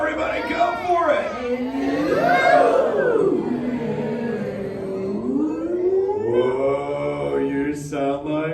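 A theater audience at Turtle Talk with Crush imitates whale calls together, a loud, sustained chorus of rising and falling moaning voices.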